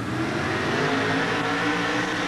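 Monster truck engine at a 1988 USHRA truck pull in Anaheim, revving hard and steady throughout, a loud continuous roar close by with no voices.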